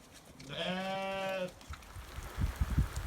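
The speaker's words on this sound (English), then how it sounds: "they do seem to jump, these Welsh mountain sheep" A single long Welsh mountain sheep bleat, close and clear on a wet, windy Pembrokeshire farm yard, followed by rustling and light thumping noises nearby.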